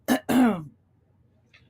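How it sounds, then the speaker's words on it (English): A person clears their throat twice in quick succession, close and fairly quiet, followed by near silence. "clearing my throat thing"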